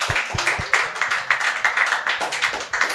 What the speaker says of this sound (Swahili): Jipigieni makofi tafadhali.